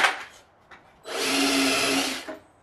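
A power drill bores a hole in plywood, heard as a faint whir followed by one steady, close, grinding whine lasting about a second and a half before it stops.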